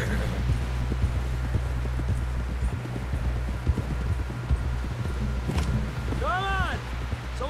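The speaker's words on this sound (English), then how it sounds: "Someone help John down off this horse." Horse hooves clip-clopping steadily in the Red Dead Redemption 2 video game, a continuous close rhythmic trot with low rumble, a brief whinny-like cry near the end, and voices talking over it.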